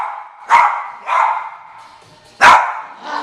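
A dog barks in short, loud bursts during tactical training: three or four sharp barks spaced irregularly, close by, with no talk over them.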